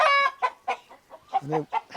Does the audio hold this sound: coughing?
no